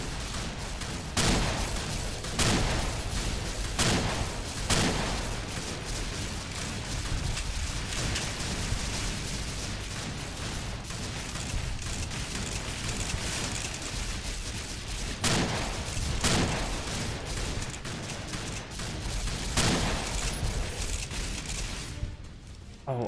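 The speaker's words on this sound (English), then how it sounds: "Who keeps shooting me?" Video game gunfire crackling in repeated bursts and sharp isolated shots over a constant dense noisy bed, continuing for over twenty seconds before cutting off.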